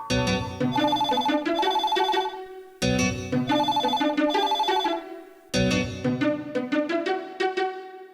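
A telephone rings in a classic Tamil TV serial scene, a loud electronic ringtone in three repeated bursts with short gaps between them, with no talking.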